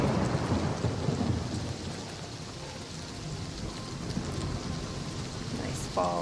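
A thunderstorm in the video game Oblivion Remastered, with a deep rumble of thunder rolling under continuous heavy rain, strongest at first and easing to a steady downpour, with a brief higher sound near the end.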